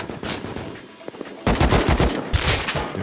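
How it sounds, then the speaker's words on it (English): Gunfire rattles during an online raid in the video game Rust, with a few scattered shots followed by dense bursts of rapid automatic fire that are loud and close. "The shots were coming from everywhere."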